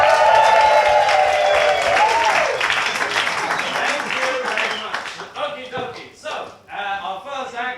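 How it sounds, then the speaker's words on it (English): A comedy show audience breaks into loud applause and cheering, dense clapping that thins toward the end as a voice rises over it, with a brief tonal sound early on. "Could I have a round of applause as I go to my chair?"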